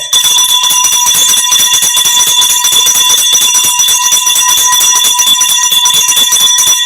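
A loud, continuous electric bell rings nonstop at the opening of a live broadcast, a harsh metallic ringing with a fast rattle, steady throughout with no talking.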